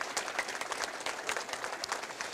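Applause from an Honor Flight gathering for the airport team, a moderate, somewhat distant patter of many hands clapping irregularly, fairly quiet but continuous.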